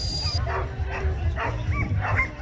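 Dog barking in short repeated bursts at a dog-friendly event in Paris, about five close barks and yips in a loose rhythm over background noise.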